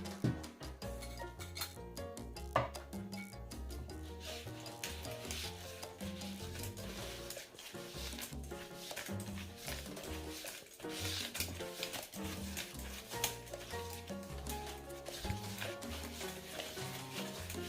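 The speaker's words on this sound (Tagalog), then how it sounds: "tapioca powder and plain flour together with the brown sugar and mix it." Tapioca powder, plain flour and brown sugar are mixed in a jug, a continuous soft rubbing and scraping with small clinks, close and fairly quiet throughout.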